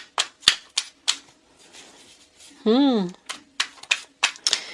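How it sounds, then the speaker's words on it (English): Tarot cards are shuffled with quick papery riffles and flicks in irregular bursts, with a brief whirring buzz in the middle. "Y'all might have to fast forward through the shuffling"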